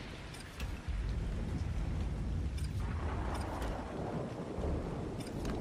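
Steady rain pours down in the survival game ARK Survival Ascended, a dense, even hiss that fills the whole scene with a few brief crackles, no voices over it.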